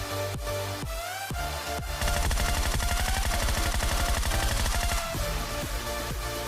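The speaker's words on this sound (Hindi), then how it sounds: "मैं इतनी सारी गोलियाँ चलाता हूँ" Rapid bursts of automatic gunfire from guns in PUBG Lite, loud and close, with a few separate shots first and then a long continuous stream of fire.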